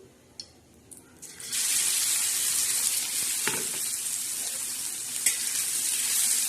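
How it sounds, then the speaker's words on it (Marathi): Green chillies hit hot oil on a griddle, starting with a few light taps and clinks before a loud, steady sizzle takes over and continues to the end, with no talking. "ही जी मिरची आहे आपण आता तव्यावर खमंग अशी छान तळणार आहोत"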